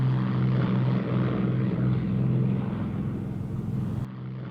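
A Lockheed P-38 Lightning propeller aircraft drones loudly with a steady, throbbing engine hum that fades slightly toward the end, with no voices over it.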